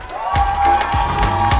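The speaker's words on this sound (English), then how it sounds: "And the winner is, round of applause, Rose Awala." Cheering and applause from an audience at a human rights defenders awards ceremony, greeting an award winner with a loud, steady swell of crowd noise that holds through the moment.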